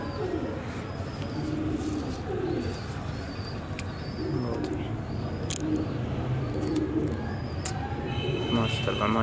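Pigeons kept in a loft give soft, low cooing calls that repeat in short rounds, close by, with scattered wing flutters and clicks, while people talk nearby.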